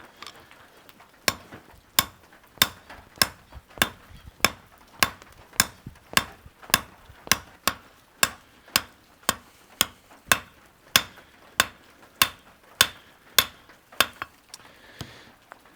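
Hammer blows on a metal knife blank being tapered by hand, a steady series of sharp ringing strikes roughly every half second, close and evenly paced, about two dozen hits.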